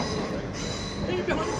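A British Rail Class 319 train passes at Crewe station with a steady rumbling roar and a brief wheel squeal, with a person talking over it.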